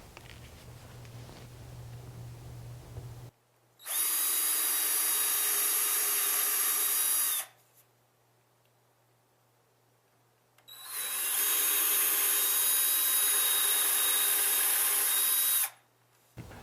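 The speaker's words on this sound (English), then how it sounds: "Use your 5mm drill bit and pre-drill a hole 1/8 of an inch deep at each mark" A power drill with a 5mm bit pre-drills shallow holes in a cabinet, whining loudly in two sustained bursts of about four and five seconds, separated by quiet, after a low hum at the start.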